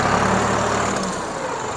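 A Deutz Fahr Agrolux 55 hp tractor engine runs loud and close in a steady, even drone, with the hum easing slightly partway through and no voices.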